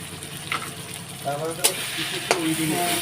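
Cumin-coriander paste and spices frying in a pan for fish curry make a low, steady sizzle with occasional stirring scrapes, while a person talks over the cooking.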